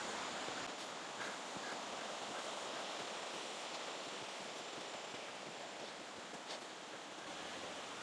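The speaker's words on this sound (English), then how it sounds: "just listen to the water rippling over the rocks" Water ripples over mossy rocks in a gorge stream, a steady, close, full-bodied rushing hiss that carries on unbroken throughout.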